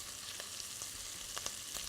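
A roux of oil and flour cooks in a pot on the stove, a faint, even hiss with a few light utensil ticks, quiet and without speech.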